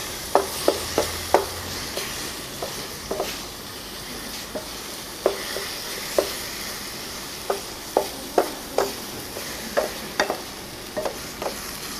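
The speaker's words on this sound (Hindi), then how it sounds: "अब हम इसमें कटे हुए बादाम डाल देंगे और इसको अच्छी तरह मिक्स कर लेंगे।" A spoon scraping and tapping in a pan while apple halwa with chopped almonds is stirred over the heat, sharp clinks recurring irregularly over a constant soft sizzle, close and alone without speech.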